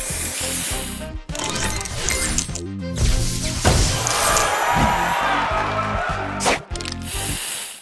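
In the Match Masters mobile puzzle game, a spray booster fires with a loud hissing whoosh and crashing effects, layered over dense game music and rapid sound effects.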